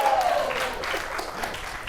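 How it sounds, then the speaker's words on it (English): Applause from an audience, a steady wash of clapping with a brief high whoop near the start, fairly loud and continuous. "Y'all need to clap louder at that."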